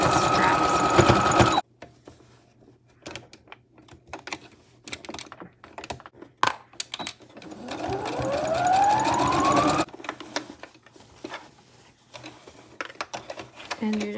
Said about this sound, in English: I'm going to bring this over to my machine and I'm going to stitch these handles in